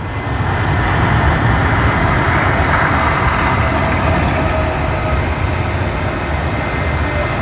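An Emirates airliner departs Sydney Airport with a loud, steady broadband jet roar that stays constant and close throughout.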